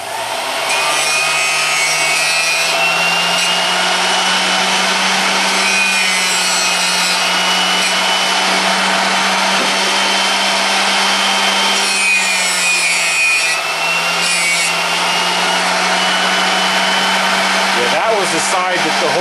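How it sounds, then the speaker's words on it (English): A large drill bit grinds against a bench grinding wheel, a loud continuous abrasive rasp over the wheel's steady motor hum, with slight shifts in pitch as the bit is moved. "I have to be careful that I don't hit the other side of this wheel because that bit is so large"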